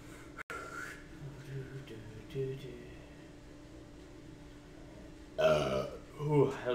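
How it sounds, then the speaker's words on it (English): A person lets out a burp amid background noise and low murmuring talk, with a louder, rougher throaty sound rising near the end. "Ooh, that was a good burp."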